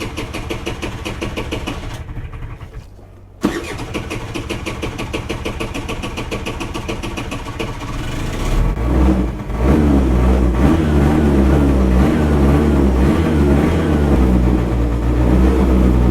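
A carbureted snowmobile engine cranks and catches on a spring start, then idles roughly with light throttle blips. The engine grows louder and fuller as it settles into a running idle, close to the listener.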